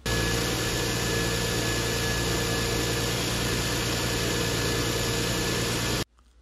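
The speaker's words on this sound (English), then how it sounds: "make sure that the idle is smooth and there aren't any weird noises coming from the engine bay" A Lexus GS 300 2JZ-GE engine idles steadily after a spark plug change with a constant low rumble and slight vibration, then cuts out abruptly near the end, leaving quiet.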